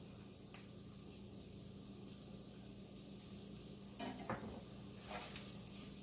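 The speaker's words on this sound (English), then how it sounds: "Mix that all up." Hamburger stroganoff mixture with flour added being stirred in a pan, a steady soft sizzle under a few scraping and clinking utensil hits against the pan.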